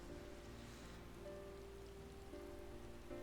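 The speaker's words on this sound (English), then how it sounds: "Honestly, it looks cool with it raining like this." Rain falls steadily on surfaces in the video game Final Fantasy XIV, a soft, faint, even patter with faint sustained musical tones under it.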